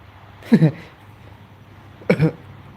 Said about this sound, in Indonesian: Batuk dia.